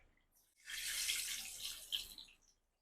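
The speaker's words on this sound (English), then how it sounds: "At this point, I'm going to put in the water." Water poured into a pot of Nigerian beef and fish stew, a steady close splashing pour lasting about two seconds with a brief surge near the end, no talking.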